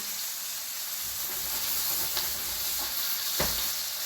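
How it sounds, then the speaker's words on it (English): A pork shoulder blade steak sears in a hot pan beside frying onions and rice, giving a dense, continuous sizzle and hiss with a couple of sharp pops. "Steak has been on for 10 minutes now. And you can see we're getting a nice, lovely sear on the top."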